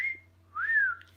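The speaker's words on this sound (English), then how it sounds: "And there's your wee whistle this morning." A pet bird gives two clear whistles indoors, a short steady note followed by a longer rising and falling one, close and alone over a faint low hum.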